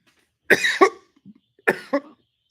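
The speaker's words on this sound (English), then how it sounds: "don't want to cough right into the microphone" Someone who had something go down the wrong way gives two close, sharp double coughs into a microphone, separated by a brief pause with faint throat sounds in near silence.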